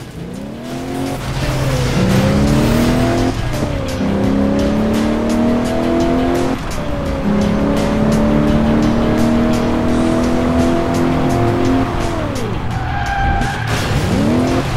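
Racing game Crash Time 4 on PC: a car is nudged from behind into a spin, with a loud steady engine drone and long squealing tire skids that rise and fall in pitch throughout.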